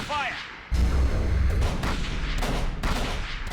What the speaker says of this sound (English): There's a minigun.